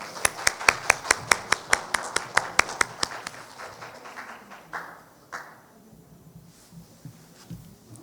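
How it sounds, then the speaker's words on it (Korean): Applause at the closing ceremony of the 2024 Global Cultural Content Society winter academic conference, following an award presentation: about three seconds of brisk, steady clapping from the audience that quickly dies away, with a voice speaking afterward. "박수 부탁드리겠습니다"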